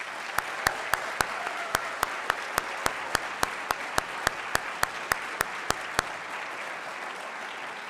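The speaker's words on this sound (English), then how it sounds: "Can we have one more round of applause for our honorees?" An audience at a law school awards dinner applauds the honorees with sustained clapping. Evenly spaced sharp ticks run through the applause, which fades slightly near the end.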